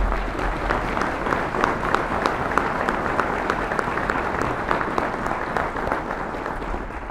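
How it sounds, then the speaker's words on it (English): A crowd at a university inauguration ceremony gives sustained, even applause for a choir, brass ensemble and string quartet, with dense clapping continuing unbroken throughout. "Let's give them a round of applause."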